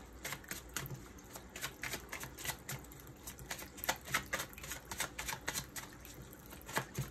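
Tarot cards being shuffled in the hands, a quiet, rapid run of soft flicking and riffling taps repeating steadily and close up, with no talk over it.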